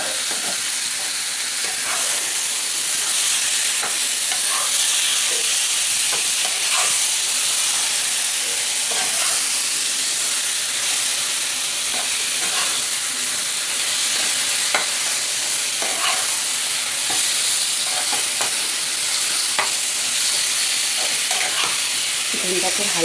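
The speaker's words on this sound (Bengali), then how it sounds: "চিকেনটাকে ভালো করে কষিয়ে নিতে হবে।" Chicken and spices fry and sizzle in a pan for a Bengali chicken kosha, with a constant loud hiss and steam and frequent scraping clicks of stirring throughout.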